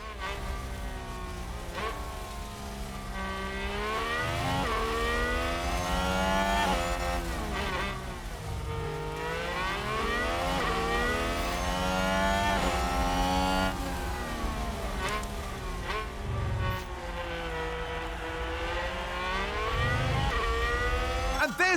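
F1 race cars at the Baku street circuit in F1 Manager 2022 scream past with high, rising and falling engine whines, several cars overlapping as they accelerate and overtake, loud and continuous.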